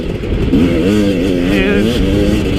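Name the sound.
Husqvarna TE250i fuel-injected two-stroke motorcycle engine running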